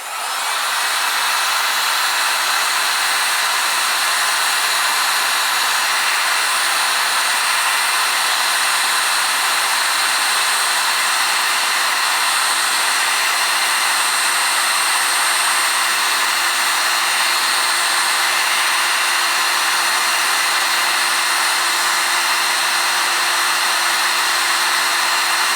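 A heat gun blows continuously close by with a steady, loud airy roar and a faint whine, used while working on the dash assembly of a 1977 Camaro Z28.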